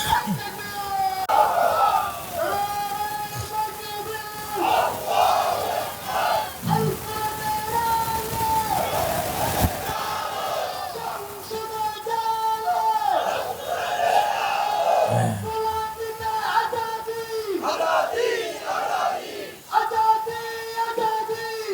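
A large religious gathering shouts a loud, drawn-out crowd response to the Naraye Takbir chant, rising again and again in waves, and a lead voice calls out between the responses.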